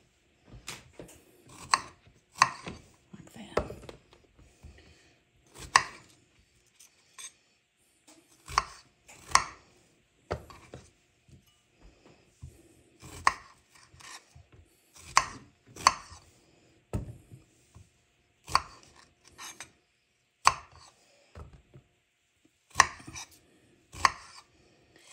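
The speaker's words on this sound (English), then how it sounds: "I'm going to get a bowl. And we're going to slice these up." Knife slicing strawberries on a cutting board, a steady run of crisp, close chopping taps in irregular bursts, with no talking.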